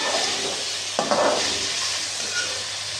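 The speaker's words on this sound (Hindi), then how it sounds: "अब इसी ऑयल में मैंने आलू डालनी है, इनको भी मैं फ्राई कर लूँगी" Potatoes dropped into hot oil give a steady sizzle and hiss, with a brief clatter of utensils and a louder burst of frying partway through, heard close up and without talk.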